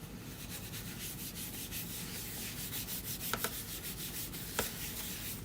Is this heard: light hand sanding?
yes